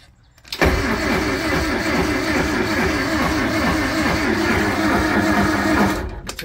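A narrowboat's diesel engine cranks over steadily for about six seconds, a loud continuous rhythmic churning that starts abruptly and cuts off near the end without catching.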